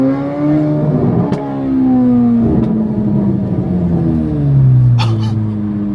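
A straight-piped, catless Chevrolet Corvette C8 Z06 revs hard outside, its exhaust climbing and falling in several loud sweeps with sharp pops between the pulls.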